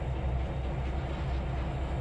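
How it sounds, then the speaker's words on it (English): Low, steady rumble with a continuous hiss from a train in Trainz 2022 as its brakes release, an even mechanical drone that stays loud and unchanging throughout. "train brake, okay, there it goes. It's just releasing now."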